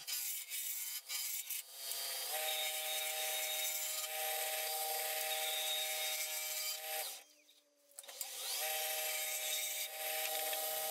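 A wood lathe roughs a blank down to working diameter with a gouge. The cutting sounds as a steady, close scraping rasp with a high whine, briefly dropping out near the end before resuming.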